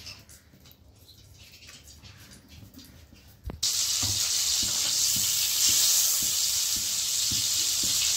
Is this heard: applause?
no